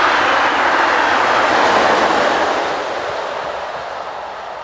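French electric locomotive BB 25639 rolls past nearby with a loud, dense rush of rail noise and wheel rumble that gradually eases as it moves away.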